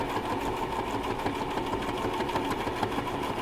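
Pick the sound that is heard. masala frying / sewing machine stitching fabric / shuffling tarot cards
sewing machine stitching fabric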